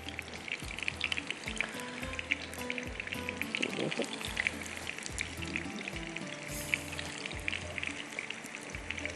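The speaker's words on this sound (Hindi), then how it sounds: "ये हमने 12 कोफ्ते इसमें डाल दिए" Kofta balls frying in hot oil in a pan, a continuous dense crackling sizzle with bubbling pops, steady and fairly quiet, no voices.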